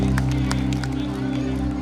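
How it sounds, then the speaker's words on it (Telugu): An audience at a school annual day claps to congratulate a student, a dense, steady burst of clapping under a constant low hum, with some murmur in the hall. "గట్టిగా చప్పట్లు కొట్టాం, అభినందిద్దాం"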